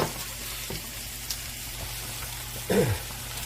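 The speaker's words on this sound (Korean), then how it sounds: "아까 볶던 거에다가 같이 넣고 볶아주시면 됩니다" Ingredients for a creamy pollock roe pasta stir-fry in a pan, a close, steady sizzle with a louder scraping stir near the end.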